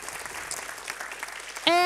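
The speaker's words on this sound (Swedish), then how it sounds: "Så ge dem en jättevarm applåd." Applause at an awards ceremony, dense clapping from an indoor audience that is cut off near the end by a sharp, tonal sound.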